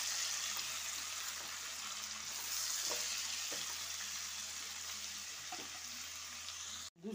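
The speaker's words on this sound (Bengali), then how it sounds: "এবার আলুটা বেশ ভাজা ভাজা হয়ে গেছে।" Potato pieces with onion, beans and capsicum sizzle steadily in a pot for chicken rice, with a few soft scraping stirs, close and continuous, no voices.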